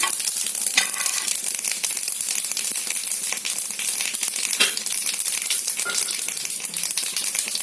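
Mustard seeds, cumin and urad dal fry in oil for a bottle gourd curry tempering, a steady close-up sizzle peppered with constant tiny crackles and pops while being stirred.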